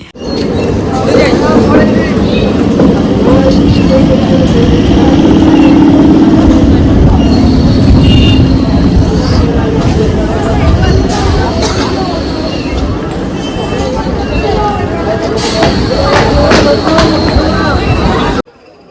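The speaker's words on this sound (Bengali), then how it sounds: "ট্রেন চলে যাচ্ছে" A train rolls through a railway station close by, its wheels squealing and clattering over the rails for a long stretch while a crowd murmurs in the background.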